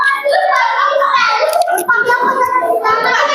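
A group of schoolchildren clapping together in a physical education lesson, a dense, loud run of hand claps mixed with children's voices and chatter.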